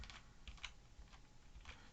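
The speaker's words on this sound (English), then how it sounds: "I'm using the arrow keys to control this in PowerPoint" Quiet computer keyboard arrow keys pressed in a few soft, irregular clicks over a low steady room hum, with no talking.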